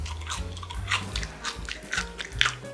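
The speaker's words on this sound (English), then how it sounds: "Let's try a regular naked fry." Crisp, repeated crunches of someone biting and chewing a double-fried French fry close to the mouth, several sharp crunches in quick succession with no talk.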